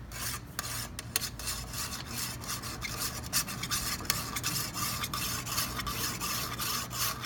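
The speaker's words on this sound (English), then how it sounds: "I'm rotating the sharpener this way" A handheld knife sharpener is dragged repeatedly along the edge of a frying pan, giving a continuous gritty rasping scrape in quick back-and-forth strokes, close and fairly loud, with no voices.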